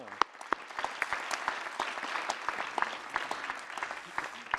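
A modest congress audience applauds an absent honoree during a medal ceremony, scattered individual claps distinct and fairly faint in a sizable hall.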